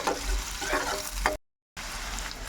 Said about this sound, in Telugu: కొంచెం కలర్ మారేదాకా వేపాలండి